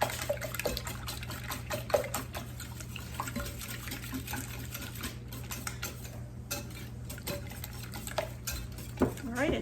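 A whisk beats eggs and skim milk together in a bowl, rapid continuous clicking and swishing against the sides, close and steady, with faint kitchen clatter.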